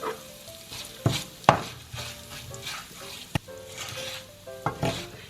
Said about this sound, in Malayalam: തീ അഡ്ജസ്റ്റ് ചെയ്ത് വേണം ഇത് വറുത്തെടുക്കാൻ വേണ്ടിയിട്ട്.